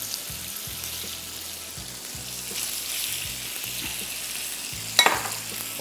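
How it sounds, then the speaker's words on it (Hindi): Chicken sizzles and fries steadily in a hot pan, a loud, continuous hiss close up with a faint low hum beneath and a brief sharp clatter near the end. "चिकन हमने यहाँ पे लेके ये सिंपली इस पैन में डाल देंगे"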